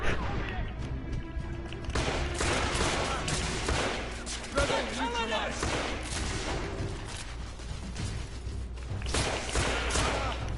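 Dense bursts of gunfire crackle and thud through a firefight in The Order: 1886, repeated volleys with impacts and crashes while a player talks over the shooting.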